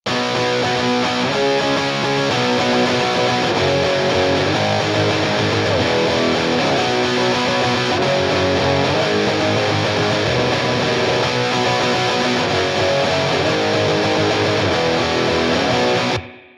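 A dense, continuous wall of electric guitar through an overdrive pedal and amp simulator, thick and gritty with fizzy highs, playing steadily for about sixteen seconds before cutting off.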